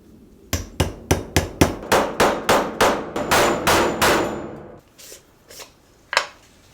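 A hammer drives wheel bearings into a KX250 dirt bike hub with about a dozen sharp, evenly spaced metallic blows, close and loud, then a pause and a few scattered final strikes.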